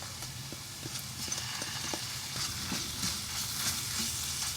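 Onions frying in a pan as tomato paste, red pepper powder and salt go in for a potato and green bean stew, a steady close sizzle with scattered clicks of stirring throughout.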